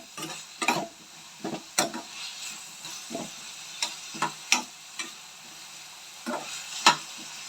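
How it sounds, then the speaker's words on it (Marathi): Jackfruit frying in oil on a high flame, with scattered sharp scraping clicks of a spatula stirring the pan over a soft background sizzle, close and intermittent. "फणस आपल्याला हाय फ्लेमवर फ्राय करायचा आहे"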